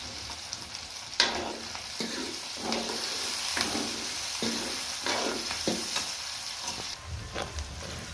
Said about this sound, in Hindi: मिर्ची अच्छे से फ्राई हो जाएगी।